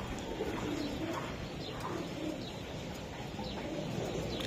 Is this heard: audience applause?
no